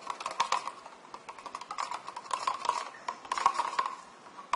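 A yogurt and water mixture is stirred in a small container, giving quick repeated clinking and scraping taps, close and fairly faint, with no voice.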